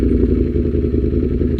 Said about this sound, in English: Because you have this really loud exhaust sound, you can actually tell when you're at a complete stop